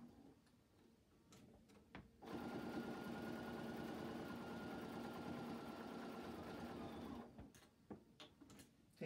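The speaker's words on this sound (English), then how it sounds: "Now I'm just going to stitch." A home sewing machine stitches along the bottom of a fabric face mask pocket in one steady, fast run of needle chatter that starts abruptly, holds for about five seconds and stops, with quiet handling noises before and after.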